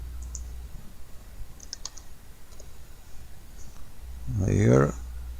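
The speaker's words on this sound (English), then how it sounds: "I click enter. Let us type it again." Typing on a computer keyboard: a few sparse, faint key clicks, followed by a short burst of speech near the end.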